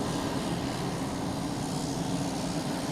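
A steady, broad rumble of a Boutique Air plane taxiing through a U-turn at Boston Logan Airport, continuous and moderately distant, with no voices.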